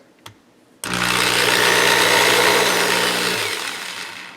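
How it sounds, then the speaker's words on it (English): After a short tap, a power drill spinning a coin ring on a mandrel whirs up abruptly and runs at a steady high-pitched whine for about two and a half seconds before spinning down. "I want you guys to watch when I turn this power drill on"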